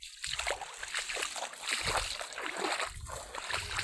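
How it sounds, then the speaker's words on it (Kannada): Feet wade slowly through standing water in a flooded farm field, making close irregular splashes and sloshes that repeat steadily from start to end. "ಹಿಂಗೆ ನೀರಾಗ ಸಾವ್ಕಾಶ ನಡಿಬೇಕು ನೋಡ್ರಿ ಫ್ರೆಂಡ್ಸ್."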